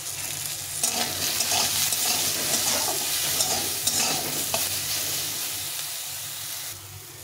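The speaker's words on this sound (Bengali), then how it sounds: "দিয়ে বেগুনটাকে ভালো করে ভেজে নেব" Eggplant slices fry in a pan with salt and turmeric, giving a steady, close sizzle with bursts of spitting oil and occasional stirring scrapes, continuous and loud throughout with no voices.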